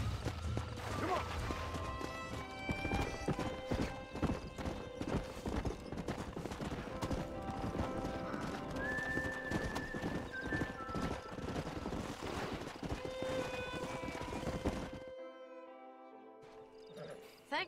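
Horse hooves clip-clop along at a steady run with an occasional whinny in the Western video game Red Dead Redemption, mixed under game music and character talk before dropping to near quiet at the end.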